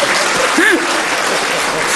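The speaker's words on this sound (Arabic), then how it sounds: "تصفيق" Audience applause at an Egyptian state ceremony attended by the president, a steady wash of clapping filling the whole stretch with a voice briefly rising above it.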